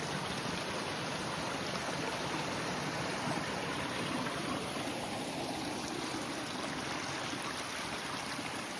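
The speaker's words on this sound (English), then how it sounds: "If you listen, you can hear the water." Creek water rushing steadily at a forest trail crossing, a loud, continuous close-up flow with no pauses and no voices.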